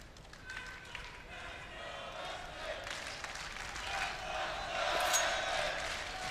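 Arena crowd cheering and roaring during a CS:GO esports match, SK Gaming against Fnatic at the ELEAGUE Major 2018 quarter final, a steady wash of noise that swells toward the end, with a commentator talking over it.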